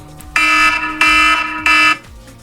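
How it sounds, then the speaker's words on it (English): A timer alarm going off with three loud, harsh buzzing beeps of equal length in quick succession, close and piercing. "timer went off"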